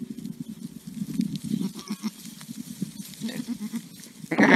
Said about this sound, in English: It was a goat. It's a type of goat.